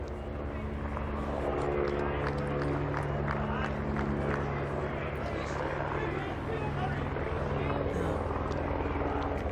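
Helicopter overhead at a lawn bowls semi-final of the 2014 Commonwealth Games, a steady, loud rotor drone with a constant low throb filling the whole stretch, while a commentator talks underneath.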